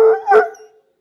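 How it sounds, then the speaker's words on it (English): A young coonhound named Hercules lets out a loud, close bark that stretches into a short, wavering howl, one baying call that fades out within a second. "Hercules is barking too"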